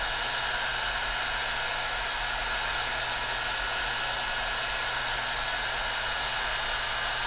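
A heat gun blows hot air onto flexible tubing to soften it around a motorcycle brake and turn signal LED, giving a loud, constant close-up whooshing roar that runs unbroken throughout.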